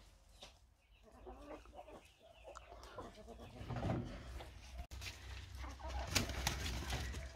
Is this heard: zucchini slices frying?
no